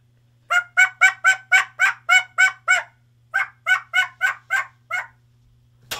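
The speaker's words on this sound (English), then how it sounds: "Oh, they're gobbling." Wild turkey toms gobble in a close, loud series of rapid rattling calls, two runs of repeated gobbles separated by a short pause, over a faint low hum.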